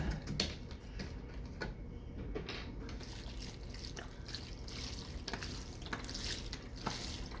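Vegetable broth is poured into a meal-prep mix, a faint, soft liquid splashing and dribbling with a few small drip-like ticks, quiet and close.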